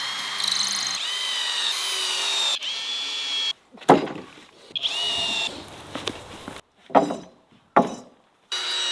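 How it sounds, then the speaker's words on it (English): Power drill driving screws into hardwood planks outdoors in a backyard garden, heard in several short whirring bursts with pauses and some clinks between them, fairly close. "if you have a really hard wood, try to drill it throughout the whole wood, otherwise you're gonna break your screws"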